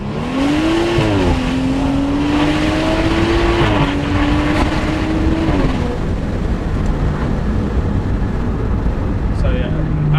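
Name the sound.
BMW M235i engine and exhaust in sport mode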